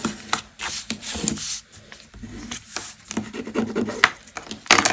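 A tool burnishes paper down on a Halloween mini album craft project, making close, soft rubbing and scraping strokes in an irregular rhythm, with no talking.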